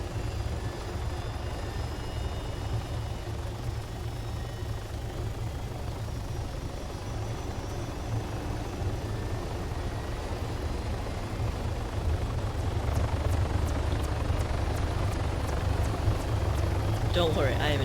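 A helicopter in the military game Arma flies with a steady, continuous rotor and engine drone that holds level throughout, with faint clicking near the end.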